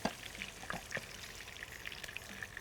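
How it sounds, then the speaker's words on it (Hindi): Potatoes frying in hot oil give a steady close sizzle with scattered pops and soft clinks as they are moved around the pan, with no talking. "पोटैटोज़ जो हमने रखे थे फ्राई होने के लिए, वो तकरीबन फ्राई हो चुके हैं।"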